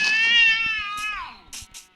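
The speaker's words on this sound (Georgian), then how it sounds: "კატების ხმა რატომ ისმის?" A cat meows in Minecraft, a clear drawn-out game sound effect that slides downward in pitch, followed by a couple of faint short clicks and noises from the game.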